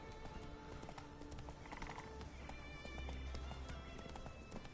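A horse gallops in The Witcher 3 video game, with steady clip-clop hoofbeats and an occasional whinny under a dense, busy game soundscape with music, fairly quiet overall.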